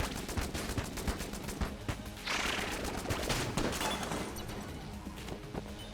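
The Zorgun fires in Enter the Gungeon, rapid repeated shots cracking in quick succession with a few crashing impacts, moderately quiet, and no talk.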